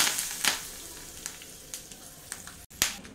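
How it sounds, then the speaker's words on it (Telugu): Curry leaves and dried red chilies sizzle in oil for a rasam tempering, a close, light crackle punctuated by a few sharp pops and spits. "కరివేపాకు ఇంకా ఎండుమిర్చి వేస్తున్నాను."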